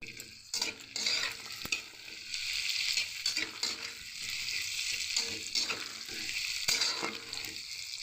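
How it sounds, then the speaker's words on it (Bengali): Potatoes and papaya, with mustard seed and cumin, fry in a pan: a steady close sizzle broken by repeated scraping stirs and occasional clinks of the spatula, with no talking. "দেখুন আলু আর আমার পেঁপেটা কিন্তু হালকা ভাজা হয়ে এসেছে"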